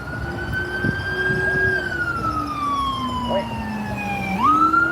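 A loud wailing siren sweeping slowly up and down in pitch, close by, over a rumble of traffic and some background voices, during an open-carry walk in Waco.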